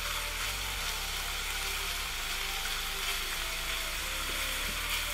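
Shrimp frying in a pan for a shrimp salad, a steady close sizzle of hot oil that runs unbroken, with a low hum underneath and no talking.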